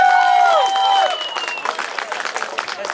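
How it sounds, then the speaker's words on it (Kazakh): Audience applause breaks out at a Kazakh Nauryz concert, a dense wash of clapping from a crowd that follows a sustained sung note and keeps going steadily. "Кеш құтты болсын деп өздеріңіз бір доғол шапалақ ұрып қойсыңыздар."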